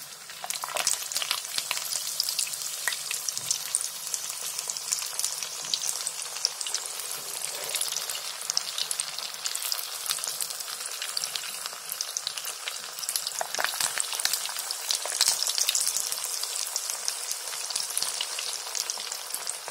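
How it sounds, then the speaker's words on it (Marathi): Crispy fingers deep frying in hot oil, a dense continuous sizzle and bubbling crackle with occasional stirring, close and steady throughout. "ब्राऊन कलर होईपर्यंत तळायचे मस्त"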